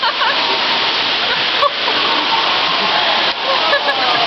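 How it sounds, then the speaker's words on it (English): A waterfall inside an exhibit pours in a steady, loud rushing wash, with a couple of brief bumps breaking the continuous roar. "there's a waterfall"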